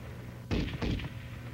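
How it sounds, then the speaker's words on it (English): M73 7.62mm tank machine gun firing, heard as two short loud bursts of shots in quick succession, close and alone with no talk. "The gun continues to fire as long as the trigger is depressed."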